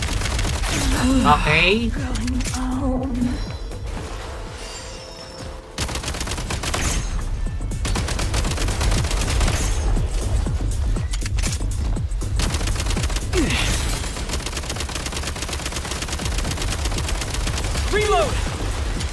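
Gunfire in the video game Genshin Impact, dense rapid bursts of automatic shots and repeated volleys over game music and effects, loud and close, with a brief spoken word early on.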